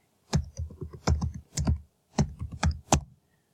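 Fingers typing on a computer keyboard, close and clear, in two quick bursts of clattering keystrokes split by a short pause, with no talk.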